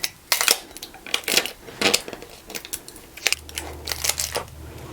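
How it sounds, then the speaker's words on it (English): Tape and a transfer sheet being peeled off a freshly pressed sublimation mug made with Infusible Ink in a Cricut Mug Press, giving short crinkly tearing and rustling bursts, close and intermittent, with a low hum near the end. "So all you want to do is remove all your tape"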